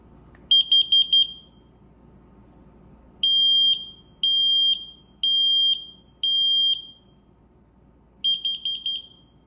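A combination smoke and carbon monoxide detector's test button sets off sharp, piercing bursts of rapid beeps, repeating several times with short pauses between them, loud and close.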